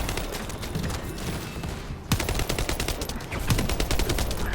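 Rapid automatic gunfire from the video game The First Descendant rattles in dense, continuous bursts, with a brief lull before the shooting resumes loudly and steadily to the end.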